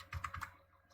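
A brief burst of typing on a computer keyboard as a terminal command is entered, several quick close key clicks within a second and then quiet.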